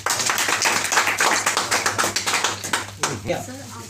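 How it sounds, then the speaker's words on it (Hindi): A crowd at a drivers' welfare association gathering in India claps in a steady rhythmic beat, sharp repeated hand claps loud and close with a voice talking over them before the clapping breaks off near the end. "भाई तालियां बजाओ सारे।"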